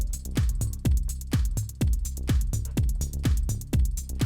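A punchy electronic kick drum thumps in a steady four-on-the-floor pulse within a dance mix, each hit deep and booming with a quick decay, repeating about twice a second alongside bass and hi-hats.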